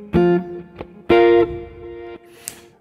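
Slightly distorted electric guitar playing jazz octave chords, two loud strummed chords separated by a pause with a faint pluck between, close and alone.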